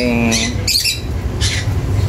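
Close squawking bird calls from a pigeon kept among fancier birds, short bursts repeating over a steady low background hum, with people talking nearby.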